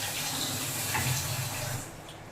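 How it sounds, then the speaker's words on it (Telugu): Water pours steadily from a tap into a bowl of salt, a continuous close gushing splash that eases slightly toward the end. "దీంట్లో వాటర్ పోసి పెట్టేస్తాను అనమాట."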